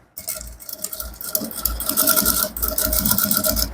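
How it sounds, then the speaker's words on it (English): Top stitching along a trouser waistband on a sewing machine gives a close, continuous rapid needle clatter with a rhythmic pulse that starts after a brief pause and grows steadier and louder, with no talk. "So I'm stitching on top of the band."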